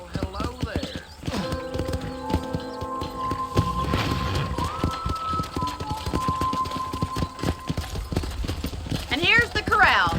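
Horses at a corral in the video game Red Dead Redemption make hoof clip-clops, snorts and a whinny over ambient game music, with people talking throughout.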